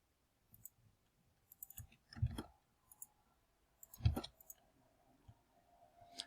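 Computer mouse clicks in a quiet room, a handful of sharp, close single and double clicks spaced irregularly, with faint soft handling noises between them.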